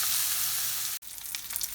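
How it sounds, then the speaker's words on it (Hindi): Fish shallow-fries in a frying pan with only two spoons of oil, giving a dense, even sizzle. It cuts off abruptly, then returns softer and crackling. "यहाँ फ्राई पैन में मैंने सिर्फ 2 चम्मच ऑयल डाला है और इसमें हम इसको फ्राई कर लेंगे"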